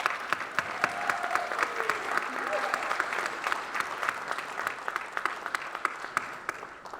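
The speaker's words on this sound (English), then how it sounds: "Let's give them a round of applause." Audience applause at a book signing event, a moderately distant, steady round of clapping with individual sharp claps standing out across several seconds.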